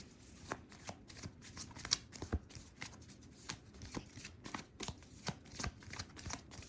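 Tarot cards being shuffled by hand, a close, quiet series of crisp riffling flicks and taps in an uneven rhythm, with no talking.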